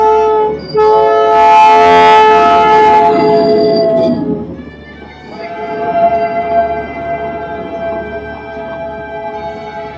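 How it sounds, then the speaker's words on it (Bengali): A toy train passes in hilly Kurseong, its loud horn blaring for a few seconds at the start, then the rumble and a second, fainter horn tone carrying on as it moves by. "এইমাত্র একটা টয় ট্রেন দেখলাম"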